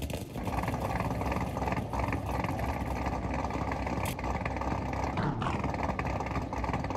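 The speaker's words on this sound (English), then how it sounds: "Now this one is a C6 Corvette." A built C6 Corvette engine with a cam and aftermarket exhaust runs in the BeamNG Drive driving game, giving a loud, steady, continuous roar throughout.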